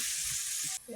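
Water poured into a hot pan gives a loud, steady sizzling hiss up close that cuts off abruptly near the end, leaving a brief quieter tail.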